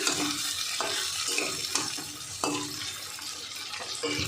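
Spices stirred with hilsa fish in a pan with a little water on medium heat, regular spatula scrapes repeating roughly every half second over a soft wet sizzle, close and quiet.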